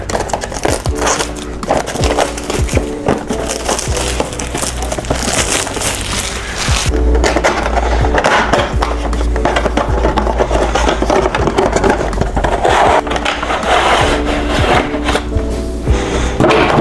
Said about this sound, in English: Let me take the plastic off of here.